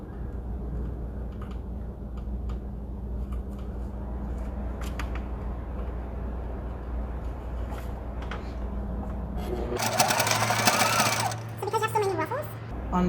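Sewing machine stitching a fabric bowl cover with an elastic band, a steady low mechanical hum running throughout, then a louder, busier burst of rapid stitching near the end.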